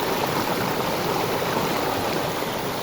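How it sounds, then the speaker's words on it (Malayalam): Steady rushing of water from a small waterfall on a river, a continuous close-up splashing roar with no pauses. "ചെറിയൊരു വെള്ളച്ചാട്ട സിസ്റ്റമാണ്."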